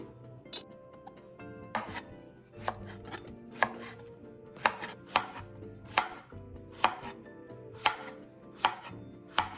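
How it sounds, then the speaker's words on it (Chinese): A knife chops one eggplant into roll-cut chunks on a cutting board, about a dozen crisp, separate knocks at an uneven, unhurried pace, close and clear, with faint clinks between cuts and no talking. "茄子1个，一样切滚刀。"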